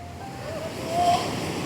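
Sea waves wash steadily onto a beach, a continuous rushing surf swell that rises slightly midway, with wind buffeting the microphone and no voices.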